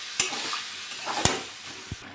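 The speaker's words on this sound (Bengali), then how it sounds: "নেড়ে চেড়ে নেবো, ভালো করে মিশিয়ে নেবো।" Cabbage, potato, drumstick, eggplant and pumpkin are stirred into frying spices in a pan, producing a steady sizzle broken by a few sharp spatula knocks against the pan, with no talking.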